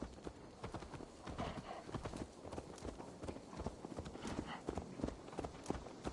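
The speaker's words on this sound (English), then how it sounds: "Let's return the horse." Horse hooves clop in a quick steady rhythm in Assassin's Creed Valhalla, with a brief whinny and quiet game ambience behind the close, repeated hoofbeats.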